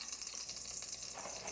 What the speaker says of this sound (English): My bacon fat is now melted, so I'm gonna start adding in my veggies.